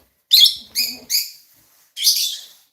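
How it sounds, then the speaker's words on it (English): Pet lovebirds give four bright, high chirping bursts close by in a quiet room, three in quick succession and then one more after a short pause. "such sweet sounds. Yes, our little birdies."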